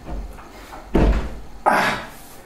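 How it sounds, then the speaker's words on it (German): A room door in a home swings and shuts, giving two solid thuds about half a second apart, close and fairly loud, with no voices over them. "Einfach mal die Tür zu machen."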